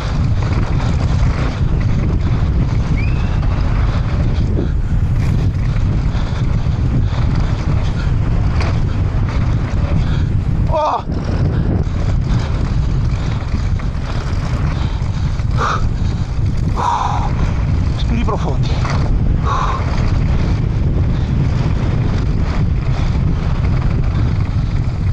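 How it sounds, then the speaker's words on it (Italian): Strong headwind buffeting the microphone during a downhill mountain bike race run, a constant loud roaring rumble with gusty fluctuations and a few faint clicks and rattles from the bike, no speech. "controvento pieno"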